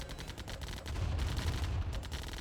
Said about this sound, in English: CriticalMeds, I think fighting these buggies might be a mistake